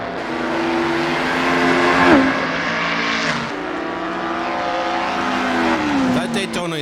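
A loud 1960s Ferrari Daytona race car roars past in a racing video game alongside other period race cars, the engine note sustained, then climbing and falling through gear changes with a brief squeal partway through.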